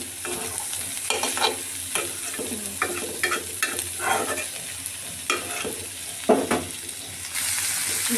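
Garlic, green chili, onion and coriander leaves sizzling in a pan, with repeated spatula stirs and scrapes over a steady close frying hiss, no talk.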